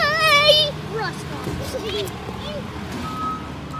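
A garbage truck reverses with steady backup beeps while its arm lifts a dumpster, the beeping loud at first and then lower amid engine rumble and hydraulic squeals, as children and adults talk nearby.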